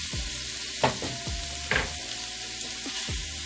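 Round steak seasoned with pepper sizzles steadily in a hot pan, with a few brief scrapes and clatters as the meat is moved about, no voices.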